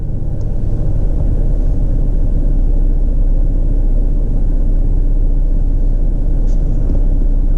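A GMC Envoy engine with a low oil pressure problem idles after a restart, giving a loud, steady, close rumble that holds unchanged throughout with no talk.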